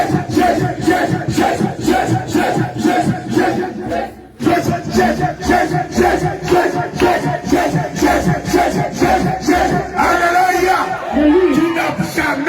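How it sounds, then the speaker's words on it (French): A church congregation at a crusade acclaims and cheers, a loud crowd of rhythmic shouts and voices pulsing in regular bursts, with a brief lull before resuming. "On acclame le Seigneur Jésus pour la vie de Jésus."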